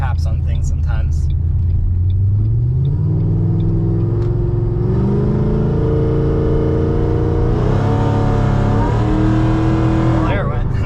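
A supercharged car accelerates hard in a higher gear, its engine note rising steadily and loud, then surging sharply as the boost comes on, with a continuous rumble throughout.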